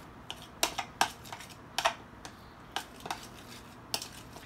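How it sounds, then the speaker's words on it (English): Curry powder is mixed into chopped eggs for egg salad, a utensil scraping and clicking against a bowl in about a dozen sharp, irregular, fairly quiet strokes. "So I want to mix it into the eggs really, really good"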